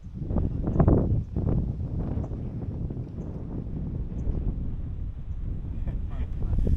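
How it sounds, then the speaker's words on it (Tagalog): Strong wind gusts buffet the microphone outdoors at Grampians National Park in Victoria, Australia, producing a loud, low, uneven rumble that swells and eases, with a voice briefly audible in the mix. "Lakas ng hangin, oh."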